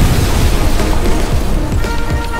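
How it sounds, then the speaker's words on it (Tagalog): A loud explosion on a ship at sea rendered as a story sound effect, heavy rumbling booms and crackling bursts rolling on continuously. "isang malakas na pagsabog ang naganap"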